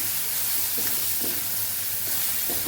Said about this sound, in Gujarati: આવી રીતે ફેરવતા ફેરવતા સરસ બધી બાજુથી પાકી જાય ત્યાં સુધી એને આપણે ફેરવવાની છે ડુંગળીને